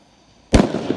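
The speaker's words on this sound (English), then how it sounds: "There's some fireworks going off over here." Fireworks on bonfire night: one sharp, loud bang after a quiet lead-in, followed by crackling bursts and rumble trailing off outdoors.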